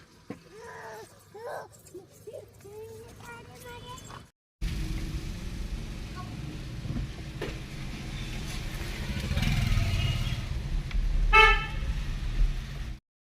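A car moves off with its engine running steadily, and one short, loud horn honk sounds near the end. Voices talk before the car sound begins.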